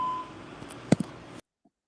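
A short electronic beep tone over a faint phone-line hiss, followed by a couple of small clicks and silence.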